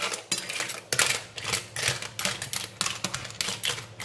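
Close clattering and scraping as clams are stirred with ginger in a dish, a busy run of clinks and knocks in an uneven rhythm.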